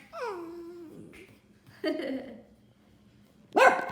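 A small dog yips and whines in short bursts, with a sharp higher-pitched bark at the end; no talking.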